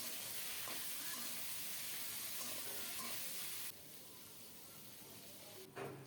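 Potatoes and papaya frying in oil after a cumin-seed tempering, a steady close sizzle with stirring that drops quieter partway through, with a brief clatter near the end.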